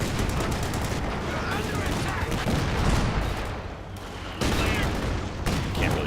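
Machine gun fire and battle noise in the Company of Heroes 2 strategy game, dense rattling bursts over continuous gunfire and explosions, with talk running throughout.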